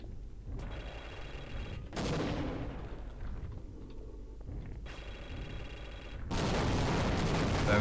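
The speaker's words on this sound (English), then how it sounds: "let's just try throwing some grenades in" Grenades exploding in Half-Life, a few heavy blasts in succession, each a sudden loud burst decaying into a rumbling tail, with the last one swelling into a sustained roar.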